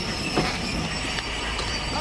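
A train at a railway platform gives a steady, loud rumble with faint squealing wheels, heard as continuous nearby rail noise with no clear speech.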